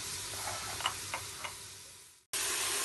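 Onion and chicken breast frying in a pan give a soft sizzle with a few light clicks and taps of stirring, fading away before a sudden louder burst of hiss at the end.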